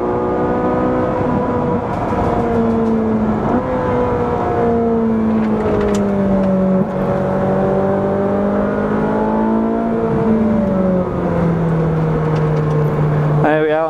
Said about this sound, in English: Gorgeous sound from this engine.